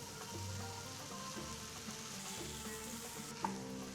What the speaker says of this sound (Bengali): এবার ভিজিয়ে রাখা প্রাণ চিড়া দিয়ে সব একসাথে মিক্স করে নেব